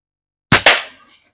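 A slingshot shot striking a target: two quick sharp cracks close together, loud and near, then a short fading tail into silence.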